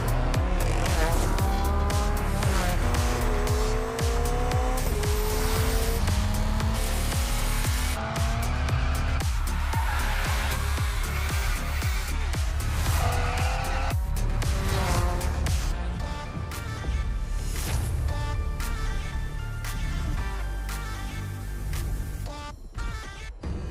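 A BMW races through The Crew Motorfest on PS5, its engine revving up and down through gear changes while tires squeal and skid, loud and continuous with a few sharp impacts.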